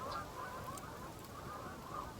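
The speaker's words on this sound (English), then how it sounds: "that's probably about 500 geese flying off of the lake over there" A large flock of about 500 geese takes off from a nearby lake, their honking blending into a faint, steady, distant clamor that lasts the whole moment.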